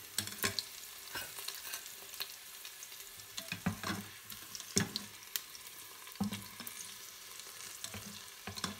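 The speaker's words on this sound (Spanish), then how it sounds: "en ese aceite vamos a sellar el pollo." Chicken pieces searing in hot garlic-infused oil in a GM pot, with steady crackling sizzle and intermittent scraping stir strokes close by.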